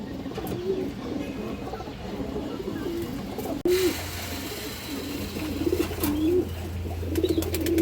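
Pigeons coo repeatedly in a loft of fancy breeds, including a fawn male, the soft rolling calls recurring close by over a steady background murmur of other birds.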